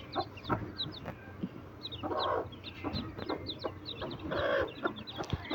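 Hens cluck repeatedly close by on a home poultry yard, soft broody clucks mixed with the high, rapid peeping of newly hatched chicks throughout.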